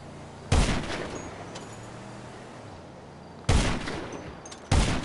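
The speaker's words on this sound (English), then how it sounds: "I'm sniping them from afar." Sniper rifle fire in GTA Online, three sharp, loud, isolated shots spaced seconds apart, each followed by a short decaying tail over faint background noise.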